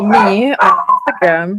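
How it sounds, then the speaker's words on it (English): A pet dog barking and whining in a home, several drawn-out yelping howls in a row, loud and close, with a person talking over it. "that's my dog. If you're hearing him barking."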